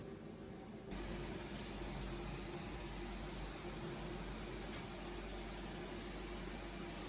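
A steady hiss of spray paint starts abruptly after a short quiet moment and continues evenly, spraying gloss black mixed with holographic glitter onto VW Golf Mk2 intake letters nonstop nearby.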